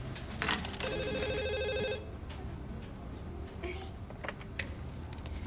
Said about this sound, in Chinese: 好像电话响了